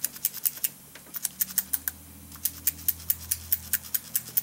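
A homemade air-graver's piston pounds back and forth, producing rapid, sharp, rhythmic clicking taps that run steadily throughout at close range.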